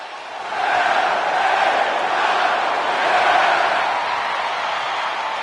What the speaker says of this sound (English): the roar of the crowd tells you all you need to know